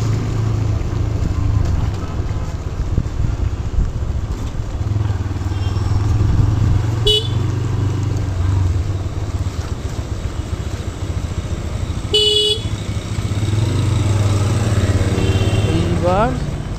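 Motorcycle ridden through rainy road traffic, its engine a constant close drone with the hiss of wet road, while vehicle horns blare twice, once near the middle and again toward the end.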